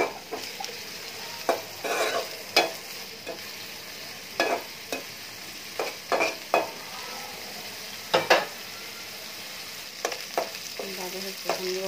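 Mixed dried fish (shutki) fries in a pan with a low steady sizzle, broken by repeated sharp scraping stirs and clatters of a spatula, near and close, with no talking.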